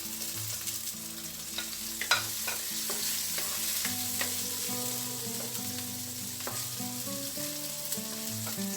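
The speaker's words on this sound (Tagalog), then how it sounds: "And then sunod na rin natin ang ating onion." Onion sautés in a pan alongside garlic for puto pao filling, giving a steady sizzle broken by scattered clicks and scrapes of stirring, beneath soft background music.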